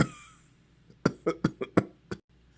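A short fit of coughing: about six harsh, close bursts in quick succession after a quiet breathy stretch, ending abruptly.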